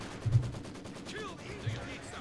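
Rifle fire from riflemen in a Company of Heroes 2 battle: a couple of dull, muffled shots crack out of a steady battle rumble, fairly distant and brief.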